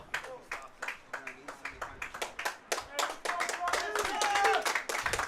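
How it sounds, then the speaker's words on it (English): Spectators clap at an NCAA men's college soccer game, scattered nearby hand claps building from sparse beats into a fuller round of applause, with voices talking over it. "So a big round of applause"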